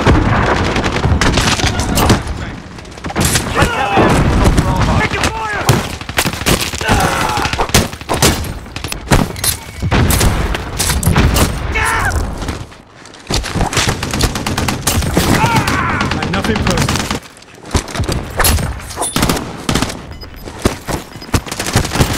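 Sustained Call of Duty combat: relentless automatic gunfire and heavy explosions pounding almost without pause, loud and close, with brief dips around the middle before the barrage resumes, game voice callouts mixed in.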